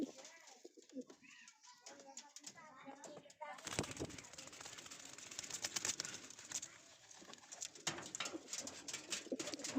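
Pigeons in a home loft, some stepping into water to bathe, coo softly in low rolling phrases, faint and steady against a quiet background with occasional light rustles and a person talking nearby.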